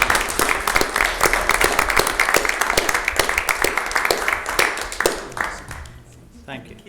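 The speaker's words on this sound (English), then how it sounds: "can we give Chris and Jess a big round of applause for all the work they've done for the CCG?" Applause at a clinical commissioning group governing body meeting: a roomful of people clapping steadily and briskly for several seconds, then tapering off into quiet murmuring.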